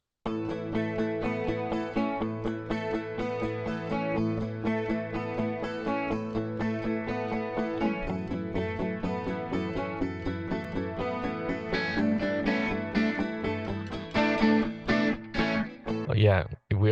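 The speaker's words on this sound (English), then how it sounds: "all the guitars together sound like this." Layered distorted electric guitars from the song play together in a dense, steady rhythmic pattern, with busier chopped strums building toward the end; no voices over the playing.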